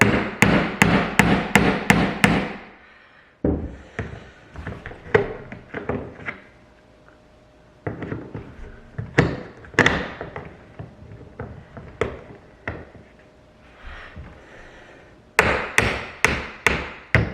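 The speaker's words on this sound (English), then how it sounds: "this pin is going to drive all the way in, and we're going to use our hammer to tap it in" Repeated sharp hammer taps driving a metal pin into a Nanuk 935 case latch, close and loud, coming in quick steady runs with short pauses between them.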